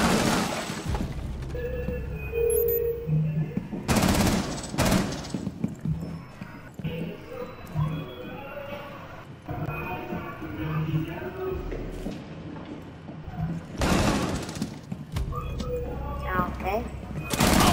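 Gunfire in Rainbow Six Siege cracks out in several sharp bursts spaced through the scene, mixed with in-game voices, footsteps and scattered impacts at moderate distance.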